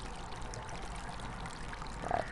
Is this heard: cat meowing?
no